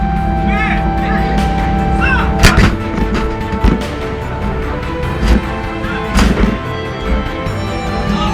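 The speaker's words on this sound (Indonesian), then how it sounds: "K9 mampu menembakkan 3 peluru dalam waktu kurang dari 15 detik" A K9 Thunder self-propelled howitzer fires 155 mm rounds, sharp heavy blasts ringing out a few seconds apart over a steady mechanical drone, with a voice speaking in the background.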